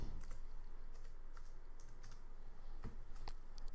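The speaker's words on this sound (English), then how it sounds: "we're going to click this, and I'll type in my name" A name is typed on a computer keyboard with quick, irregular clusters of close, soft key clicks that continue throughout, with no voices.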